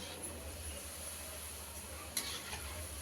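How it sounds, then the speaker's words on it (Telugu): Wheat flour gulab jamuns frying in oil, a soft steady sizzle with a faint low hum beneath and one brief clink near the end, quiet and uninterrupted by talk. "కుక్ అవుతుందండి ఫ్రై అవుతుంది గులాబ్ జాములు"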